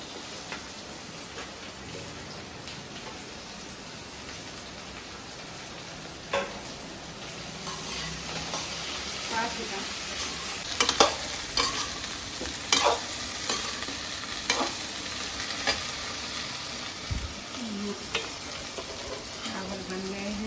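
Garlic tempering (tadka) frying in hot oil in a pan, a steady soft sizzle with scattered crackles and stirring clatter, fairly faint and close, no talk.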